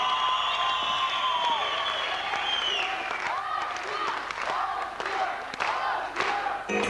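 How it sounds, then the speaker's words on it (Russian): Audience at a KVN comedy show applauding and cheering, a dense crowd roar with whoops and clapping that carries on under a raised voice and fades unevenly. "Он поддерживает аплодисментами."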